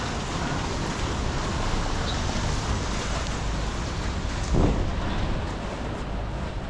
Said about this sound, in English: should kind of get out of the rain, go home.